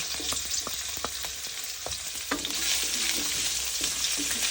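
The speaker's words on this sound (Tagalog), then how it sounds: "So lutuin na natin yung luya ng konti." Chopped ginger sizzles and fries in a hot wok while arroz caldo is being cooked, a steady close hiss broken by scattered clicks and scrapes of stirring, with no voices.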